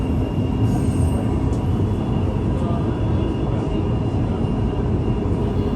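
From inside a driverless Riyadh Metro train running underground comes a loud, continuous rumble of wheels on rail, with a thin squeal of the wheels over it.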